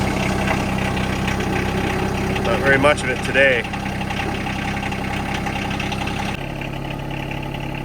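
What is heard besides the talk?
Yanmar SA425 compact tractor engine idling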